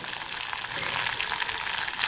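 Curry leaves frying in hot oil for a Kerala prawn dish give a steady, dense crackling sizzle that holds level throughout, close and alone with no talk.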